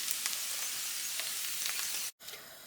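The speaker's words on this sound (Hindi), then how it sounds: "अब हम ओनियन टमाटर को फ्राई" Onion and tomato fry in oil in a pan, giving a steady, close hiss of sizzling with small crackles that cuts out briefly near the end before resuming.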